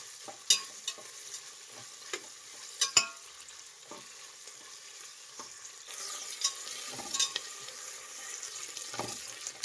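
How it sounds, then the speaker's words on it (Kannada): Onions frying toward golden brown for tomato pulao: intermittent clatters and scrapes of stirring over a soft, continuous sizzle, close by, with no voices. "ಈರುಳ್ಳಿ ಒಂದು ಸ್ವಲ್ಪ ಗೋಲ್ಡನ್ ಬ್ರೌನ್ ಬರಬೇಕು, ಅಲ್ಲಿವರೆಗೂ ಫ್ರೈ ಮಾಡಬೇಕು."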